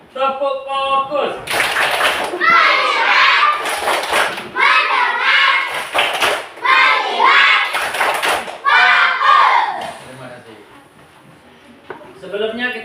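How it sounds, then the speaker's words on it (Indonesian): Fourth-grade pupils in class repeating the 'tepuk fokus' clap chant, energetic shouted unison chanting broken by crisp synchronized claps in several rounds, ending in a brief quieter pause before another short burst. "Belum semangat. Sekali lagi. Tepuk fokus."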